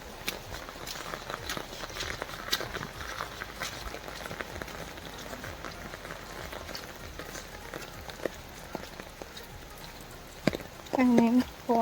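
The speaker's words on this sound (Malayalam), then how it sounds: "മഴയൊന്ന് നിന്നേരം ഇറങ്ങിയതാ, പിന്നെയും പെയ്ത്." Rain falls steadily outdoors during a walk on a muddy road in Kerala, a dense patter of drops and faint footfalls running throughout, with a brief voice near the end.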